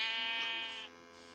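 Sheep from the Minecraft video game give one drawn-out, nasal synthetic bleat, clear and close, that fades out toward the end, with no voices over it.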